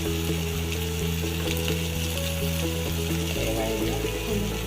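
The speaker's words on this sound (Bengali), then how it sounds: "এবারে নুন দিয়ে দিলাম। এবারে দিলাম লঙ্কার গুঁড়ো," Spices, salt and chilli powder sizzle in a pan with tomatoes for a bread upma, a steady dense frying hiss under a constant low electrical hum that shifts partway through.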